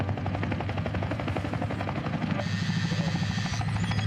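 A helicopter's rotor thumps in a rapid steady rhythm with a whining engine, loud and constant throughout, heard from a played video.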